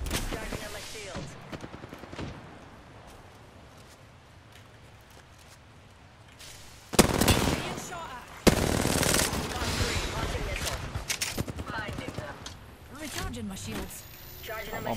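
Bursts of automatic gunfire during an Apex Legends solo ranked match, sporadic shots early then dense rapid fire later, loud and close, with game voice lines mixed in.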